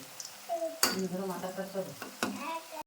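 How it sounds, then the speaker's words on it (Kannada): Bajji fritters fry in hot oil with a soft, steady sizzle, broken by a couple of sharp clanks of a spoon or ladle against the pan in a short, close-up burst. "ಈಗ ನೋಡ್ರಿ ಬಜ್ಜಿ ಅಂತರ ಮಸ್ತ್ ಫ್ರೈ ಎಲ್ಲ ಬರ್ತಾವ್ರಿ"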